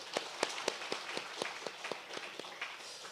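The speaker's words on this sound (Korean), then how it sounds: "우리 큰 박수로 하나님께 영광 올리겠습니다." A congregation clapping in church after a hymn at a Wednesday service, a moderately distant round of applause with distinct individual claps standing out in a loose, uneven rhythm.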